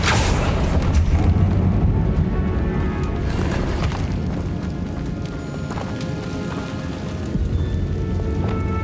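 A Confringo fire spell from Hogwarts Legacy bursts at the start with a loud, booming explosive impact, then rumbles and crackles on under busy game sound effects and music.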